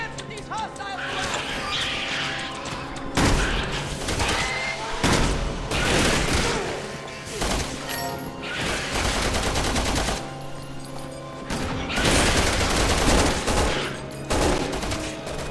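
Sustained gunfire in Resident Evil 6, loud repeated shots and bursts with short pauses between volleys, over a dense, busy game soundscape.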